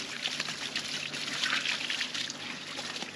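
Water pours in a steady, hissing stream for several seconds, moderately loud and close, with a continuous splashing texture and no break.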